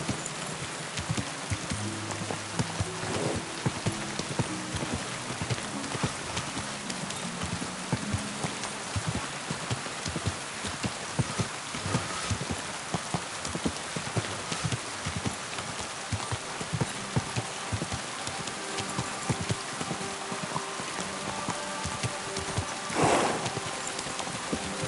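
Horse hooves clip-clop steadily along in the medieval game Kingdom Come Deliverance 2, a continuous trotting rhythm with faint patter like light rain in the background and no one speaking.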